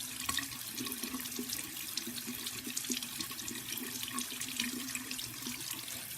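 A makeup sponge is rubbed with soap in circling motions under a running kitchen tap, giving a steady close splash of water with soft squelching throughout.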